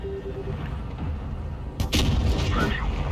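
A tank's main gun fires in the game World of Tanks Blitz, from an ISU-152 shooting into an IS-3. A single heavy boom with a sharp attack lands partway through over a steady engine rumble, and a crackling tail follows it.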